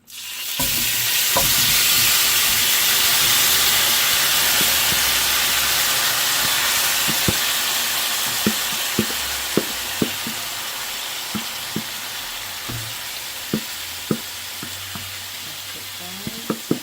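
Oxtail hits a hot skillet with a sudden loud hiss that settles into a strong, steady sizzle, while a spoon knocks and scrapes now and then during stirring; no one speaks.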